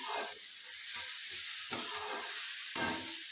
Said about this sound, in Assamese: এতিয়া দালিটো তেলটো মাৰিবলগীয়া আছে